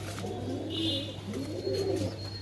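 Kaldam pigeons at a pigeon farm in Nabadwip, with a couple of soft cooing calls rising and falling over a steady low hum, fairly close and moderately loud.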